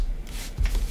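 Tarot cards are shuffled and drawn in a brief, close, papery riffle lasting under a second.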